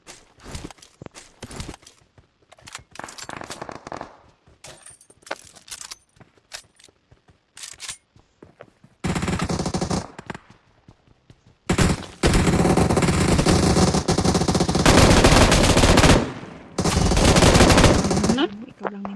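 PUBG Mobile gameplay full of machine gun fire, scattered single shots and short bursts early, then long loud sustained automatic volleys dominating the later stretch, with footstep-like clicks between.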